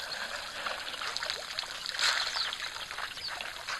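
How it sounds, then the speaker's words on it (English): Water trickles and splashes from the mouths of elephants drinking at a waterhole, a soft irregular dribbling patter with a slightly fuller splash near the middle, faint and outdoors without voices. "listening to the water as it falls from their mouth"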